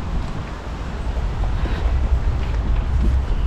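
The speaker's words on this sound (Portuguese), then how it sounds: "E hoje tá ventando um pouquinho." Blustery wind buffets the microphone with low rumbling gusts in Campo Grande park, Valladolid, steady and fairly loud throughout, with no voices.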